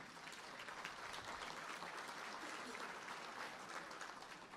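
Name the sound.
applause started by the Lions Club table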